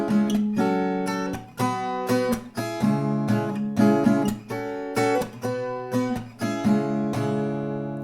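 Strummed acoustic guitar chords in a steady rhythm, several sustained chord changes ringing out clearly with no voices.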